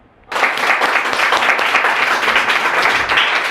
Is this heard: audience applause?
yes